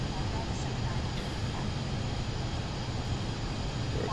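An airplane engine drones steadily through a climb in Microsoft Flight Simulator 2024 on PS5. The hum is continuous and moderately loud, with talk over it.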